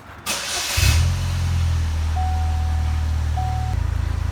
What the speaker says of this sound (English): Let me go ahead and get the car started.